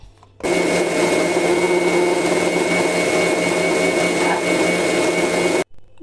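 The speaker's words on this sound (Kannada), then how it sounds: "ಇದನ್ನು ಗ್ರೈಂಡ್ ಮಾಡ್ಕೊಳ್ಳೋಣ" A kitchen mixer grinder churns coconut masala with water, a loud, steady whirring roar that starts abruptly, runs for about five seconds and then cuts off sharply, with no voices.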